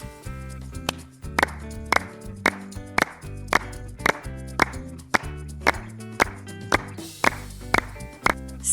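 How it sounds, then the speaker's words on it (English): Hands clap in a regular beat of sharp, crisp smacks roughly once a second, set over a bright, cheerful backing tune in a children's learning animation. "Clap means hit your hands together."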